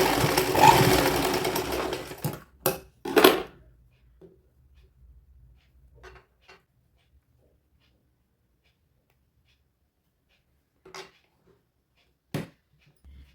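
A sewing machine stitches a baby girl's midi dress in a short loud burst, then comes a few brief stitching bursts and scattered faint clicks amid long quiet stretches.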